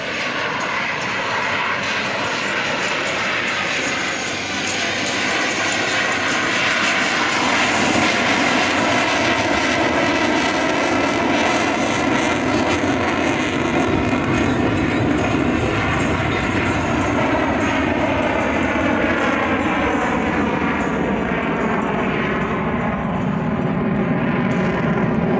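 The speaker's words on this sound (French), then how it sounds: "Rafale Solo Display qui passe devant vous à faible vitesse." A Dassault Rafale jet in a solo display passes at low speed, a loud, sustained engine roar with a rough rumble that holds steady throughout, with no talking.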